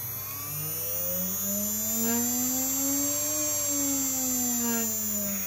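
A spindle motor spins on a Chinese JLS-E-2S-2 variable frequency drive, giving a steady whining hum whose pitch sweeps up, holds, then eases slightly, with a jet-like whir running continuously and fairly loud.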